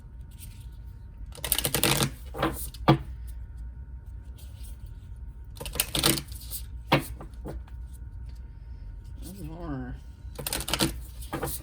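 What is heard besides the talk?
shuffling a deck of cards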